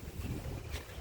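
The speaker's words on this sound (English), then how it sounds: "Sorry about the wind." Outdoor wind buffets the microphone in a short, continuous low rumble with no speech.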